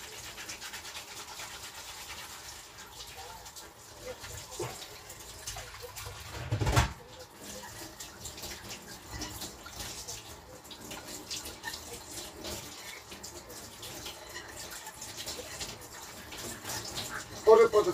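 Something is scrubbed clean under running water, a soft continuous flow of water with brisk rubbing and scratching strokes, one louder splash midway, and a voice heard at times.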